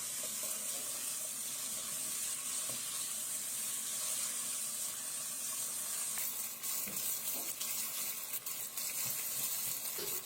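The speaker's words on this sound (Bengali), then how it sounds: "এবার ভালোভাবে নেড়ে চেড়ে কষাতে হবে।" Beef bhuna being stirred and fried in a pan, with a steady close sizzle throughout and scattered scraping stirs and clatters, louder toward the end.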